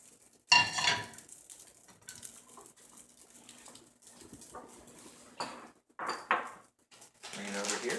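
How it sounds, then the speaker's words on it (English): Tofu set into a bowl produces a few soft clatters and knocks of kitchenware, one louder clunk near the start and scattered light clinks later, close and quiet with a voice talking between. "Place our tofu into a bowl."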